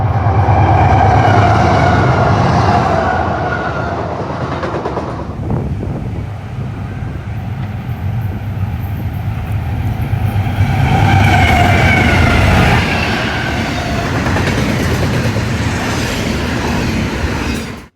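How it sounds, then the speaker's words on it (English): An eastbound Norfolk Southern intermodal train passes close by with a loud continuous rumble of wheels and cars, buffeted by wind noise on the microphone, the roar dipping briefly midway and then rising again. "an eastbound Norfolk Southern intermodal passed by, with a nice little surprise trailing third"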